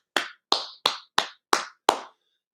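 Six sharp handclaps from a single pair of hands, evenly and slowly spaced about a third of a second apart, close and dry, with nothing else around them.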